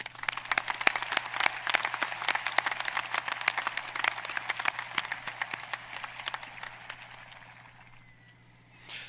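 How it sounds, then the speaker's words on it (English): Sustained audience applause at a high school graduation, many hands clapping steadily before the sound gradually thins out and fades near the end. "Let's give all these students a round of applause."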